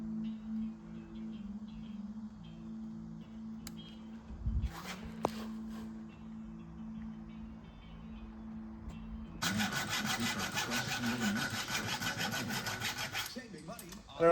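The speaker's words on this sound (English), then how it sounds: "Take your flat file, turn it to the side, and rub it like that." A flat file rasps sideways across the rakers of a chainsaw chain in a dense, continuous run of close strokes lasting a few seconds. Before it comes a quieter stretch with a steady low hum and a couple of brief knocks.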